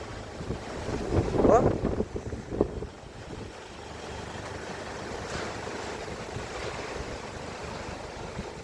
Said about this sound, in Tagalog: Lakas ng hangin. Para may bagyo.